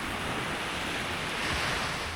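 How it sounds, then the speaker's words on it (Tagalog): Calm sea waves wash onto the beach at Dinadiawan, Aurora, a steady broadband surf hiss with some wind, close and continuous and without speech. "Kalmado lang yung dagat dito ngayon."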